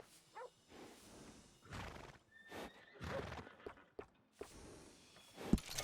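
Horse in Red Dead Redemption 2 being groomed, giving a few short neighs and snorts with soft hoof shuffles, fairly close, amid other game sounds.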